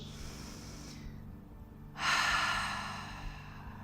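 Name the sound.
deep breath exhaled through nose or mouth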